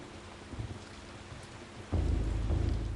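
Steady rain hisses in Eternal Darkness, with a faint low rumble early on and a heavier, louder burst of rain and thunder swelling in after about two seconds, continuing dense and close to the end; no voices.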